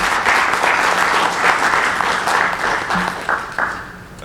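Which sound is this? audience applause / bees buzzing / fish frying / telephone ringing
audience applause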